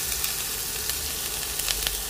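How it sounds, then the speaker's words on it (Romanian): Oil sizzles and crackles steadily as chicken fries, with small pops bursting through a constant hiss. "Punem și puiul la prăjit."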